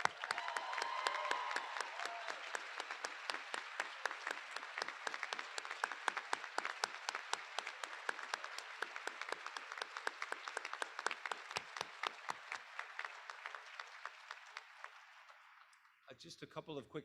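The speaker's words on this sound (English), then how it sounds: "A round of applause for all of our award recipients today." Audience at a school prize assembly applauding award recipients: steady, dense clapping from a crowd, heard from a distance and fairly faint, continuing for a long stretch before dying away.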